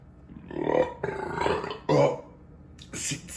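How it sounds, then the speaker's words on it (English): A man lets out a double burp after drinking beer, two deep, loud, drawn-out belches close to the mic, followed by a short breathy sound. "see, that was a double burp"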